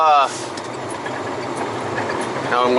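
A heavy LTL pickup-and-delivery truck with a 10-speed manual Eaton transmission idles, giving a steady low diesel rumble that runs under a voice throughout.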